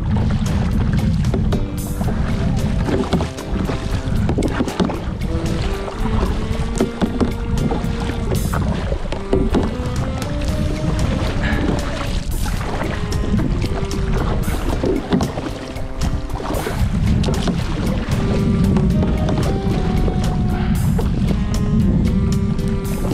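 Water lapping and splashing around a kayak at Deep Cove, steady and close, with tonal music-like or wind sounds running throughout and no speech.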